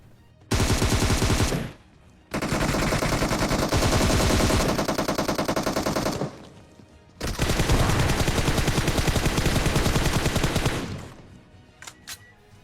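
Sustained bursts of automatic gunfire in the BGMI battle royale game, with loud rapid rattling volleys broken by brief pauses and a few scattered single shots toward the end.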